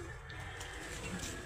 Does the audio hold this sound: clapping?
no